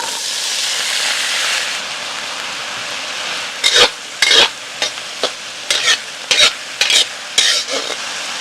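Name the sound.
stir-frying cured pork with peas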